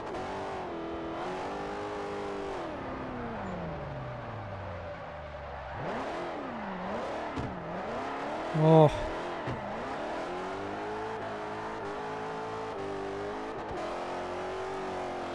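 Three-rotor Mazda RX-7 engine in the Forza Motorsport 4 racing game, revving and drifting: a continuous buzzing rotary drone rising and falling with throttle, a brief sharp tire chirp midway, and a man briefly exclaiming over it.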